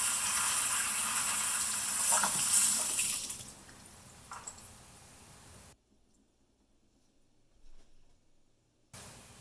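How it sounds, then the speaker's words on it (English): Boiled pork rinsed under running water, a steady near hiss of spray for a few seconds that fades, then quiet with faint handling noises before water briefly resumes. "Before tossing the pork into the Instant Pot, give it a quick rinse to wash off any other gunk."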